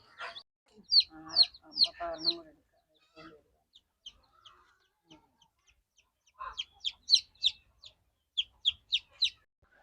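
Country chickens cluck in short repeated bursts, near and moderately loud, with a cluster of calls at the start and another run of quick clucks toward the end, separated by quieter scratching and low background noise.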